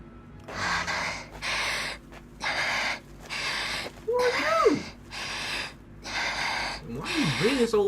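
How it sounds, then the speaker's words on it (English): Heavy, loud breathing from a character in the video game Tales of Arise comes as rhythmic rasping breaths about once a second, close and airy, with brief voiced sounds over the later breaths. "Why are you breathing so loud in my ear?"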